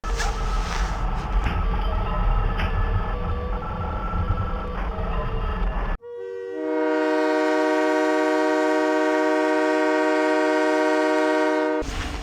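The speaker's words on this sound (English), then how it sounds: "Mangle sounds like a train horn." Mangle, the broken animatronic from Five Nights at Freddy's 2, lets out a loud, sustained blaring tone like a train horn, holding steady for about six seconds after a sudden cut from busy, noisy game sound.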